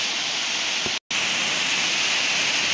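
Water cascading down a rocky ravine near the El Barro waterfall in Yuscarán, Honduras, a steady, close, full-band rush with one brief cut to silence partway through.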